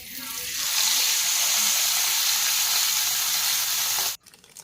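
Turmeric powder and a tomato, onion and garlic paste fry in a hot wok, producing a loud, even sizzle that holds steady before cutting off abruptly near the end.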